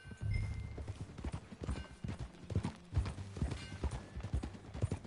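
Horse hooves clip-clop at a steady walking pace in the video game Red Dead Redemption 2, close and clear, with faint creaks and a brief snort near the start.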